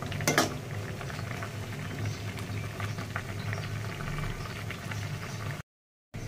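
Maggi noodles cooked plainly as a soupy broth in a pot, with a steady close bubbling simmer and faint clinks of utensils, cut off by a brief silence near the end.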